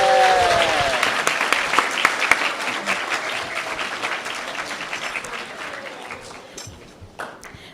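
An audience at a Gurudev Jayanthi and Mother's Day celebration applauds, a loud, dense wash of clapping that gradually thins and fades over several seconds, with a few louder claps near the end.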